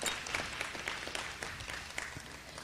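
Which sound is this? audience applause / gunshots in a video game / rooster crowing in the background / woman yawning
audience applause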